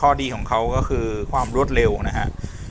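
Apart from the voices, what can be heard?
No everyday noise stands out behind the speech.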